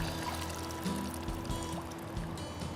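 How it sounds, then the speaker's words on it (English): Water pours off a plastic gold pan in a continuous close stream lasting a few seconds, steady and even throughout. "now I pour the water off"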